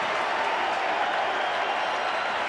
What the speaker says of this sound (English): And the crowd celebrates.